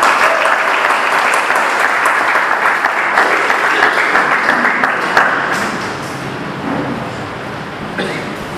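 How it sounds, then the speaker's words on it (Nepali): Audience at a Christian conference, the Himalayan Conference 2019, applauding loudly to welcome a pastor, dense sustained clapping from a large crowd that thins slightly toward the end. "हामी जोरदार तालीले स्वागत गर्ने पास्टर किशोर सुनार आसमबाट"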